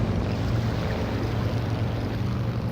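Steady loud roar of a jet engine on the flight deck of the carrier Ticonderoga in the flight game Strike Fighters 2, set in Vietnam, holding at full power before launch, with no talking.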